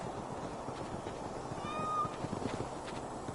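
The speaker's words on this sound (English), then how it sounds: "My cats! Come here, my darlings." A cat gives a single clear meow in the Assassin's Creed Valhalla Discovery Tour game, rising briefly above a steady ambient background hum.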